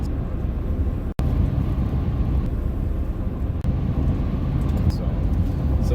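Hankook Dynapro ATM all-terrain tires roll on a truck, giving a steady broadband road roar and rumble that holds at an even level throughout, heard from inside the cab.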